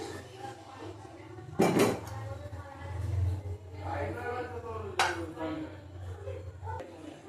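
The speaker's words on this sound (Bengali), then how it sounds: "কড়াই বসিয়ে দেবো" A metal kadai set down on a home kitchen stove while making chicken curry, landing in two sharp clanks a few seconds apart, with a voice talking over a low background hum.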